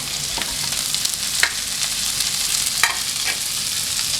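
Loud, close sizzle of beans, tomato, capsicum and carrot frying in a pan, with a continuous hiss and several sharp scraping stirs from a spatula. No one speaks.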